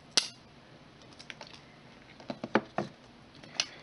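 Protective plastic film being peeled off the USB cable of an Apple SuperDrive, heard as sharp crackles and ticks spaced irregularly over a quiet background, some louder snaps near the end.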